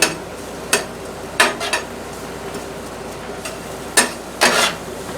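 Spices in oil on a flat top griddle, a low sizzle under sharp metallic scrapes and clanks of a spatula flipping them, a few loud strikes spaced apart.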